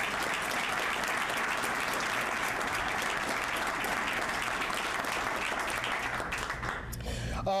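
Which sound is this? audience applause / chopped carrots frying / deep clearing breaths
audience applause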